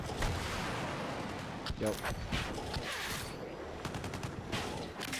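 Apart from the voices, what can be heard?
helicopter strafing gunfire in a video game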